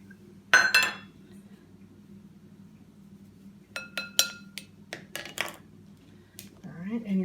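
A utensil stirs dry play dough ingredients in a bowl, giving scattered clinks and light scraping, a sharp burst early then a cluster of taps later, fairly close and under a faint background hum.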